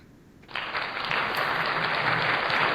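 Crowd clapping at a reggae festival stage, starting suddenly after a quiet moment and swelling into loud, sustained applause from many hands.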